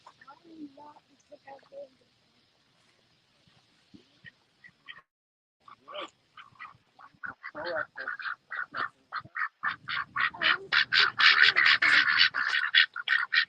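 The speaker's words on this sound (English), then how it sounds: "ducks and a pig and some goats." Ducks quack loudly and repeatedly on a dairy farm, building into a dense, overlapping chorus after quieter scattered calls and brief human voices at the start.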